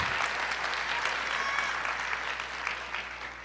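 A church congregation applauds during a sermon, a dense, sustained wash of many hands clapping, loud and continuous with faint voices mixed in.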